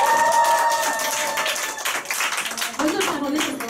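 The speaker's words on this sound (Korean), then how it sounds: "위대한 우리 자신들을 위해서 박수 한번 치고 시작할까요?" A group at a business team meeting claps together, a loud, busy patter of many hands mixed with voices and some sustained tones, with the clapping thinning briefly midway before picking up again.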